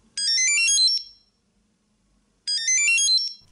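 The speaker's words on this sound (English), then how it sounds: "You can hear that ringing out and then find your keys." A shrill electronic chirping melody from an iHere 3 Bluetooth key finder rings out twice, each burst lasting under a second with a pause between, close and clear.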